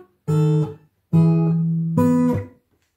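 An acoustic guitar plays the bass walk-up from a song in three plucked note groups, close and clear, each ringing briefly before the next, with no talk.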